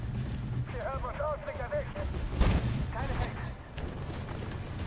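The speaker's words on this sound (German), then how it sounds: "Ich versuche jetzt noch einen Schuss zu setzen." A single heavy cannon shot from a T14 Armata tank with a 152 mm gun in the console game Armored Warfare, a sharp boom midway through, heard under someone talking over game noise.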